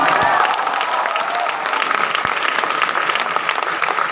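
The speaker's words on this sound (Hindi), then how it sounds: "एक बार जोरदार तालियां" Loud, dense applause from a large crowd, sustained throughout, with some faint cheering mixed in.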